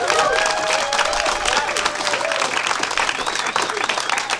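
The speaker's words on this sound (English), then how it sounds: "Give yourselves a big round of applause." A comedy club audience breaks into sustained applause at the end of a show, dense clapping filling the room throughout, with a voice talking over it.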